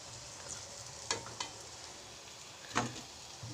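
Potatoes simmering in water for aloo posto give a quiet, low bubbling hiss, broken by a few soft knocks of a utensil against the pot.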